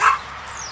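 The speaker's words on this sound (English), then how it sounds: "I apologize ahead of time if you hear dog barking" A single short dog bark outdoors, loud and close at the start, then a fading tail with a faint whine.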